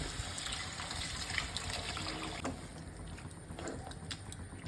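Water poured into a pot of fish curry with fried puti and mourola fish, a steady splashing, trickling pour close by with no talk.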